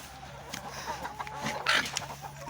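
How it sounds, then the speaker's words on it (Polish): Hens cluck nearby in short, irregular bursts, with soft rustling and movement around them. "O, kury już tu czekają"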